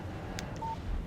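A short phone text message notification from the Alan Wake video game: a brief electronic chirp followed by a clean beep tone, faint and alone over a quiet background.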